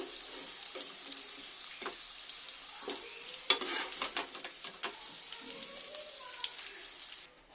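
Papaya and potato pieces fry in hot oil with a continuous crackling sizzle, broken by sharp clinks and scrapes of stirring, one louder knock standing out near the middle.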